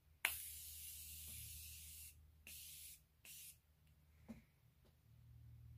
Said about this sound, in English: I'm going to spray my face with the Morphe setting spray.